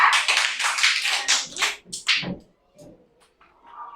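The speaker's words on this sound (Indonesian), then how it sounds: "tepuk tangan untuk kelompok 4" A classroom of pupils claps for group 4 in a quick run of sharp, rhythmic claps that fades into a few scattered taps and silence.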